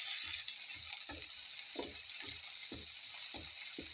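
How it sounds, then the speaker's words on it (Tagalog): Onions sautéing in a pan for Filipino milkfish sarciado, a constant bright sizzle broken by repeated low thuds and scrapes of a spatula stirring, close and fairly loud with no talking. "So let's start saute now. Onions."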